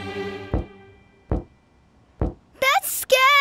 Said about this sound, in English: Knocking sounds like this.